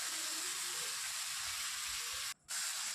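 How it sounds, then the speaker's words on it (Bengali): Chicken pieces fry loudly in a hot pan with onion and garlic, a steady close hiss of sizzling oil that drops out briefly for a moment near the end, then resumes. "তো এই যে মাংসটা কষা হচ্ছে"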